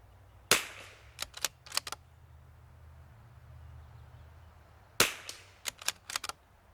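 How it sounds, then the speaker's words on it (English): Two sharp, loud shots from a precision rifle with a Timney two-stage trigger, several seconds apart, each followed by quick clicks and rattles of handling in a quiet outdoor setting. "We're shooting at a 1/4 inch at 50."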